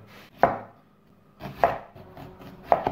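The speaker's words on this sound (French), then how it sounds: "On fait un deuxième oignon. Et là on en fait des rondelles." A knife cutting a second onion into rings on a board, three separate close, crisp chops spaced about a second apart, each with a short crunchy tail.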